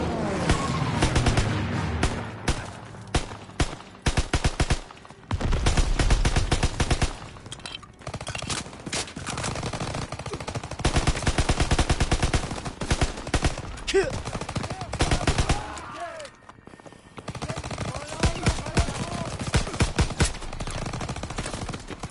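Dense automatic and machine-gun fire with rattling bursts and heavy booms fills a World War II battle in the Call of Duty WWII campaign, loud and nearly continuous with only brief lulls.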